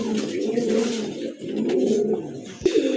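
Native pigeons at a pigeon sale coo in low, rolling phrases close by, steady and continuous, with a brief sharp knock near the end.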